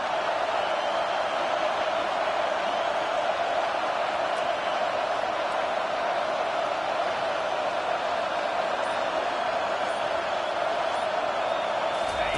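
A stadium crowd at a college football game roars on third down, a dense, steady wall of cheering and yelling from thousands of fans that holds at full volume throughout without letting up.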